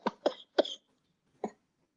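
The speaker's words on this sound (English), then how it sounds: "She's having an existential coughing fit." A woman coughs in a short fit, three quick harsh coughs in a row and then one more after a brief pause, loud and close with no talking.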